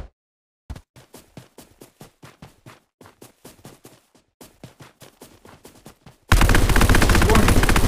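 Rapid gunfire bursts from a battle royale mobile game, a long run of sharp shots followed by a loud, dense bombardment roar that fills the final seconds.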